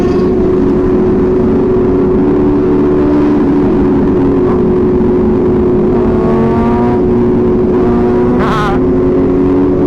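Group of sport motorcycles riding together on a 100K celebration ride, steady loud engine drone with several bikes revving up and passing close, no voices.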